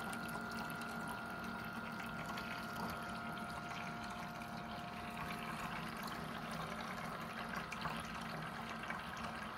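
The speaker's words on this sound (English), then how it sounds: "that pump isn't necessarily liking the super hot water." A coffee maker's pump pushing hot water, a steady mechanical whine with a sustained tonal hum and faint gurgling liquid underneath, continuous throughout and heard alone.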